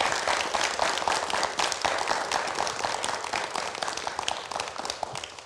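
Audience applause for a doctor taking the stage at a televised event: a dense, steady wash of many hands clapping that stays loud and fills the room throughout, with no talk over it.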